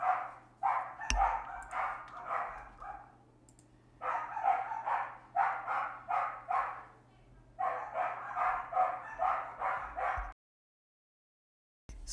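Several dogs barking repeatedly in bursts, moderately close indoors, with gaps between volleys and a steady background hum before the sound cuts off.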